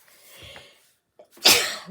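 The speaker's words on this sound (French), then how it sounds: "Je vais éternuer, bien sûr." A soft intake of breath, a brief pause, then one sharp, close sneeze that trails off quickly.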